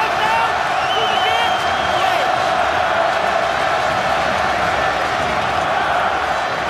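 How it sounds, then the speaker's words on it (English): Loud, dense stadium crowd at a 2008 Munster versus Toulouse rugby match, a steady roar of cheering and whistling sustained throughout, with commentary talk over it. "listen to this crowd."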